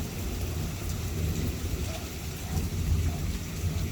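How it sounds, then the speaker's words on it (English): A hailstorm dropping stones about 2 centimeters across, mixed with rain and wind, makes a dense continuous clatter and hiss with scattered sharper impacts, loud and steady with no speech. "Yeah, 2 centimeter hail."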